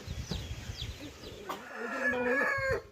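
A fighting rooster, a country-breed cock, lets out a loud, drawn-out crow in the second half, preceded by softer clucking and farmyard noise.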